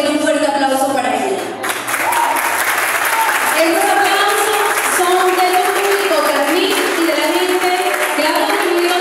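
Loud, dense applause from a large audience at an international nail event in Barinas, Venezuela, sustained throughout with cheering and musical tones woven in.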